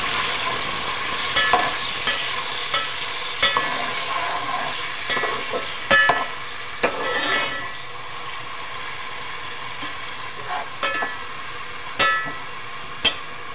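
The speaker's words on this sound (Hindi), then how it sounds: "प्याज को बहुत अच्छे से हमने फ्राई करना है इसके अंदर" Finely chopped onions fry in oil for a whole masoor lentil pulao, a moderate hissing sizzle punctuated by repeated spoon scrapes and taps against the pot every second or two, near and without talk.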